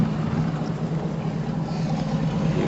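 A Hummer H2 with new catalytic converters and a small exhaust leak idles steadily, a continuous low engine rumble heard close by with no talk.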